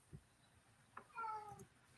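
A cat gives a short, faint meow, a single drawn-out call that rises and falls, with a few soft thumps before it in an otherwise quiet room.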